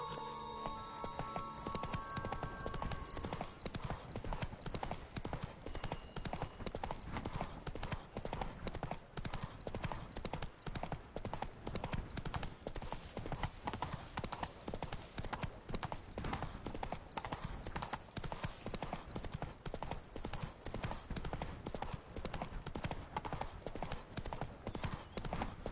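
Horse hooves galloping in The Witcher 3, a steady fast clip-clop rhythm that runs loud and unbroken throughout, with game ambience beneath and no talking.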